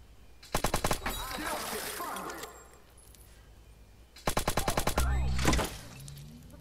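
Silenced Vector submachine gun fired in Watch Dogs: two quick bursts of about six or seven muffled, clipped shots each, separated by a pause, with brief mechanical clinks and a voice at the end.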